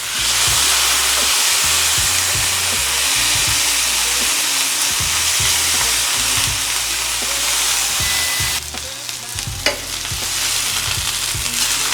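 Marinated London broil beef sears in a hot pan indoors, giving a loud, steady sizzle with popping crackles close up, which briefly dips and shifts partway through as the meat is moved.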